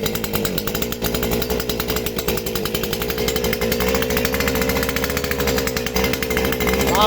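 A Stihl FS250 brush cutter runs with a warm engine, its loud, steady two-stroke drone holding for about seven seconds with a buzzing, rasping tone and no speech.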